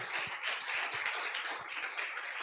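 A church congregation applauding, a steady wash of many hands clapping at once, moderately distant and sustained throughout.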